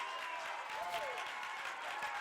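A crowd at a Watertown baseball game claps and cheers in a steady, somewhat distant wash while a commentator talks over it.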